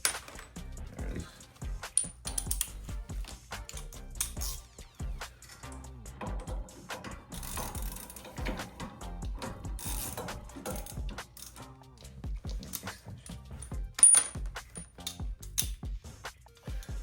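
A socket ratchet tightening a bolt on a custom disc brake on a golf cart, heard as quiet, irregular clicking and metallic clinks from nearby, with occasional sharper knocks and no talking.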